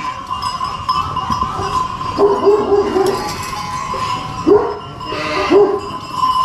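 Dogs on a farm bark in short bursts of yips and woofs amid outdoor background noise, some moderately close, several barks clustered in the middle and near the end.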